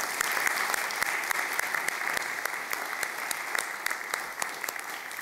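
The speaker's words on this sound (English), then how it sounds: "Let's give them another round of applause." Audience at a church worship service applauding, a steady patter of many hands clapping together, moderately distant and continuous throughout.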